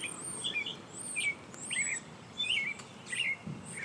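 A woodland bird sings repeated bright chirps and short whistled phrases in a regular pattern, fairly close and clear over a soft, rustling outdoor background.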